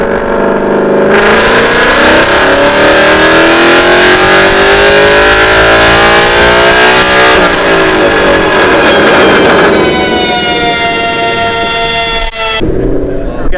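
A car engine revs hard on a dyno run, a loud sustained roar climbing steadily in pitch through the gears before cutting off abruptly near the end.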